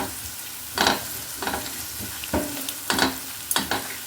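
Chili powder frying in a pan is stirred on low heat. Five or six distinct scraping strokes sound over a soft continuous sizzle, with no voices.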